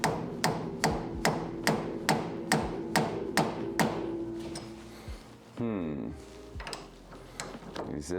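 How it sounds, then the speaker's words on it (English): A rubber hammer tapping on a car suspension part during suspension and brake work, about a dozen evenly spaced sharp taps up close, followed by a ratcheting whirr and scattered knocks as a voice speaks over it. "So we're gonna grab the rubber hammer again. We're gonna give it a little tappity tap."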